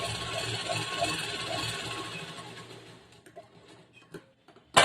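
A sewing machine runs a straight half-inch seam on blouse fabric with a fast, even mechanical whir and rhythmic ticking, then stops and leaves a few scattered clicks and a sharp knock at the end.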